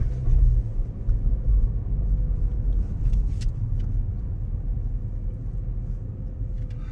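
A car rolls slowly through downtown Washington, D.C. streets near L Street NW during a pre-inauguration lockdown, with a constant low engine and road rumble from inside the vehicle and a few faint clicks, and no talk.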